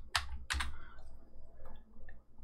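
Several quick keystrokes on a computer keyboard, close by, in two short clusters followed by a few fainter taps against a quiet room.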